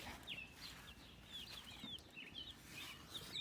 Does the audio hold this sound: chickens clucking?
yes